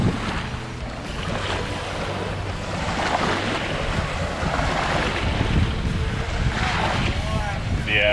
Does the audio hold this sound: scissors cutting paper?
no